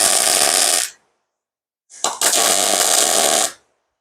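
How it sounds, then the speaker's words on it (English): Welding metal pieces flat, one side before the other: two loud, steady bursts of crackling arc noise, the first about a second long and the second nearly two seconds, separated by silence. "So maybe I'll weld the other side first."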